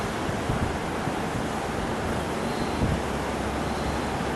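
Swollen, flooded river in downtown Quesnel rushing past an eroding bank, a steady broad roar of moving water with wind buffeting the microphone, constant and unbroken.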